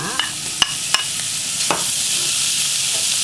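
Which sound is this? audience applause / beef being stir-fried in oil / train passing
beef being stir-fried in oil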